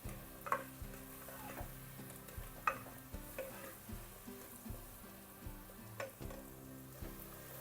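Mushrooms with onion and corn frying in a pan, a continuous soft sizzle broken by regular stirring scrapes and light clicks, close and fairly quiet, with no talk.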